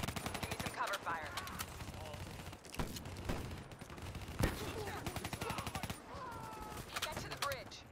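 Call of Duty: Black Ops III battle with repeated bursts of automatic gunfire and scattered shots throughout, loud and close, layered under shouted voices and game effects.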